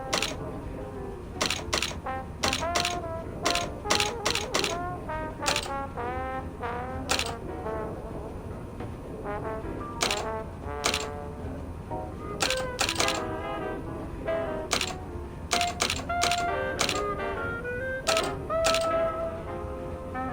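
A ticket printer machine in the Grim Fandango video game clacks and snaps in quick irregular bursts of sharp mechanical clicks over a murmuring background.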